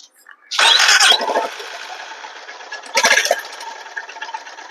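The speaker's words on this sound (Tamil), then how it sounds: "உங்களுக்கு இப்போ எக்ஸாஸ்ட் நோட் வேணால் நான் காட்டுறேன்" A Honda CB350 motorcycle engine starts up loudly and settles into a steady idle exhaust note, with a second brief blip of the throttle about two seconds later.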